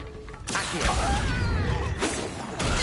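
Accio summoning spell cast in Hogwarts Legacy: a sudden whooshing magical swell with shimmering, sweeping tones, followed by a second surge near the end, fairly loud and close with no talk.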